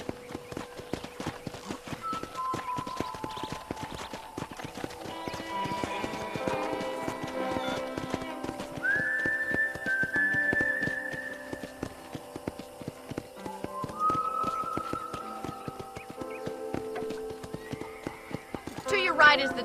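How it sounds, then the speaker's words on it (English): Hooves clip-clop in a Red Dead Redemption ranch tour as horses walk along, a steady rhythmic tapping joined by a couple of whinnies, under ongoing speech and music. "I picked out a fine horse for you"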